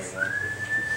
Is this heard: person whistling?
yes